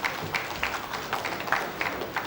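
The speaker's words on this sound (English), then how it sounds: "Let's clap for him again." Applause from a seated audience at a higher education funding and graduate employability session, steady moderate clapping with periodic swells, fairly close and continuous.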